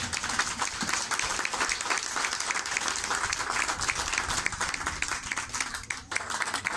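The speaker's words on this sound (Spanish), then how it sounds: "Fuerte el aplauso para él." An audience at a community event for a traditional religious race in Nauzontla breaks into lively applause. Individual claps stand out within the steady, fairly close crowd noise, which holds for the whole stretch.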